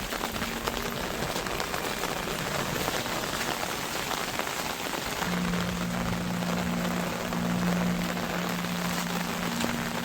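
Steady rain pattering on a hard surface, a dense continuous hiss close by, with a faint low hum running beneath.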